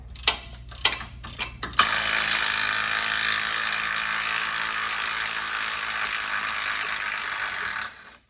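A wrench works on the sway bar bolts of a Chevy Suburban: a few quick ratchet clicks, then a loud continuous mechanical whir for about six seconds that cuts off sharply.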